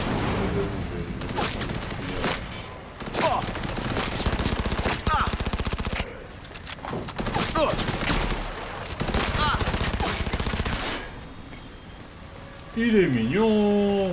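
Rapid automatic gunfire in the video game Cyberpunk 2077 comes in several loud sustained bursts, with game sounds and a player speaking in between.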